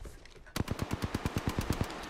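A steady burst of rapid automatic gunfire in a video game, about fifteen evenly spaced shots fired close and clear after a short quiet lead-in.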